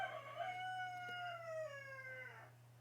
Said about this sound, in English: Apologies for the rooster.